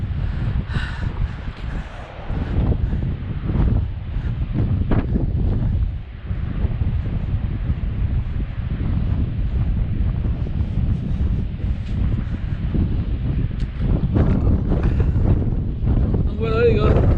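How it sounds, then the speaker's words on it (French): Icy winter wind gusts at a beach, buffeting the microphone in a steady loud roar that barely lets up, with a voice speaking beneath it. "Le vent est glacial."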